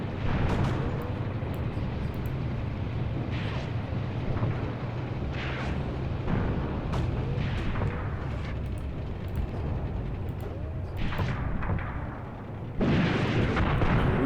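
Tank and artillery fire rumbles through an Eastern Front battle with the Red Army in a war video game, a dense, unbroken wall of booms and blasts that swells louder near the end.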